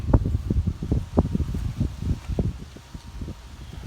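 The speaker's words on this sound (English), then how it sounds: "I apologize for the wind." Gusty wind buffets the microphone outdoors on a blustery homestead day, a low, uneven rumble of rapid puffs that eases slightly toward the end, with no talking.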